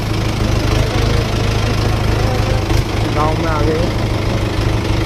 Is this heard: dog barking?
no